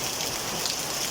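Heavy rain pours in Leyte, Philippines, a dense, steady hiss of drops on surfaces that stays loud and even throughout the short stretch.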